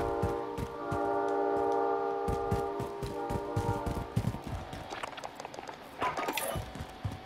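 Train in Call of Duty Warzone's Verdansk map, a sustained horn chord followed by rhythmic rumbling and clacking of the moving cars, fairly loud and close.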